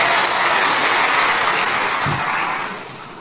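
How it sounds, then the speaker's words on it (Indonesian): A church congregation applauds at a lively sermon, dense clapping that stays loud and steady, then thins and fades toward the end. "Tepuk tangan untuk Poge."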